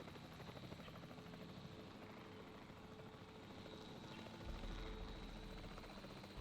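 A capture team's helicopter in the Jurassic World video game, a steady faint rotor and engine drone that swells slightly near the end, with no voices.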